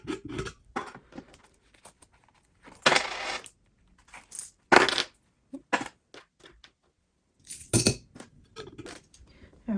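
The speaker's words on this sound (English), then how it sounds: "I can go ahead and add the little bit of coins I have to the coin jar" Small coins clink and drop into a coin jar in a quiet room, landing as a run of separate bright metallic clinks with brief silent gaps between them.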